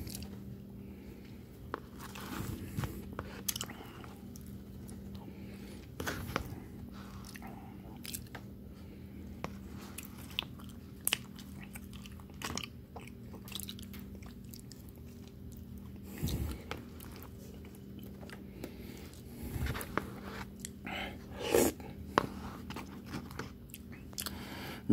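Someone eats melted Belmont cookies and cream, with scattered soft bites, squishy chewing and occasional crunches spaced through a quiet room, close and faint.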